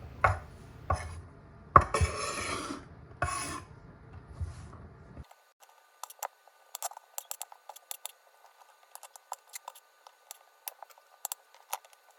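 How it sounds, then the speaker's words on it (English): Sharp knife chops green beans on a cutting board, a cluster of heavier strikes at first, then lighter, quicker scattered taps continuing alone at close range. "Here I'm just cutting off the tips of the green beans and chopping them into about 2-inch pieces"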